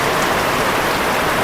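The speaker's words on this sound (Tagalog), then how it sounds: "ang lakas ng ulan dito po sa ano to" Heavy rain pours steadily in Santa Elena, a dense, loud and unbroken hiss of drops hammering surfaces with no pauses or voices.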